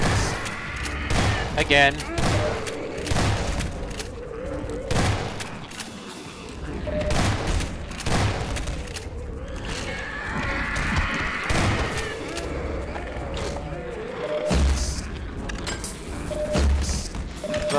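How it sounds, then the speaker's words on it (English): Bomb blasts and gunfire in Garry's Mod on a horror hunt map, a rapid volley of booms and thuds with heavy low rumbles, loud and close, and a voice speaking briefly. "That's a bomb."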